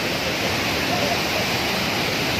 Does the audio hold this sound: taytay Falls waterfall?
yes